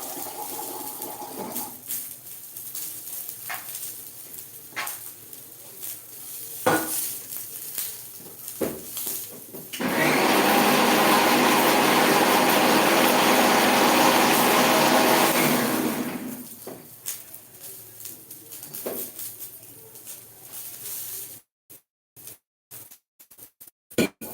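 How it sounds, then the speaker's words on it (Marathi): A kitchen mixer grinder grinding spices for gravy, starting abruptly as a loud whirring roar that holds for about six seconds among scattered clatter and handling noises. "देखो ये मिक्सर पे भी अभी हो गया पीस कर"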